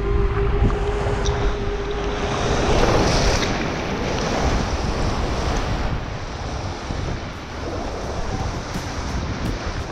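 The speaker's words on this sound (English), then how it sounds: "There's gonna be some pretty big waves and holes down there." Big waves and churning water roar through rapids on the Klamath River, a loud, dense, continuous wash mixed with wind buffeting the microphone, no voices.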